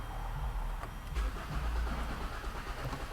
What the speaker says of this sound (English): I'm gonna go ahead and attempt to start the car.